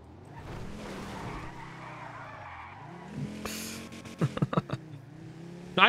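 Car in the NoPixel GTA roleplay game driven recklessly, its steady engine drone giving way to sharp bursts of tire squeal and skidding near the end.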